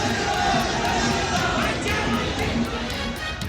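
A huge street crowd of supporters waving saffron flags roars and chants at a political rally in Mandi, a thick, steady wash of many voices that is loud and unbroken from start to finish.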